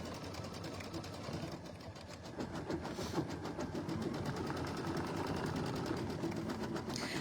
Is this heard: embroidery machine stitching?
yes